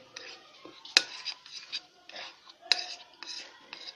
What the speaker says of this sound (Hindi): हम अच्छी तरह जो है चम्मच से मिक्स कर लेंगे